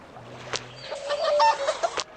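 Cartoon chickens in the farming game Township cluck in quick soft bursts over a light game soundtrack, with a few sharp clicks scattered through.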